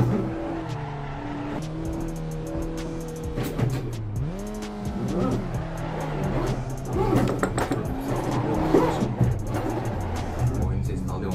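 Assetto Corsa racing game car engine revving through shifting pitches as the car drifts, with tire squeals and a speaking voice underneath.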